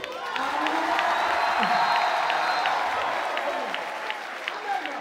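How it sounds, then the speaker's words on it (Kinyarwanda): Audience applause fills a church service, a broad, steady wash of clapping with some cheering voices mixed in, holding fairly even for several seconds before easing slightly toward the end. "Komera Imana amashyi."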